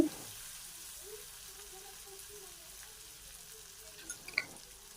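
Soya chunks fry in a wok with chili powder and turmeric, giving a faint, low, steady sizzle with a few soft clicks of utensils near the end.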